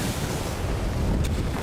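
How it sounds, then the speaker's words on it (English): Wind and waves buffet a fishing boat on the Grand Banks, a steady, loud broadband roar of gusting air and surging sea with no voices. "Wind kicked up today."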